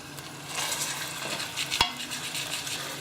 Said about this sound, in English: So I've got my lamb shanks and I've been cooking for a few minutes, turn them over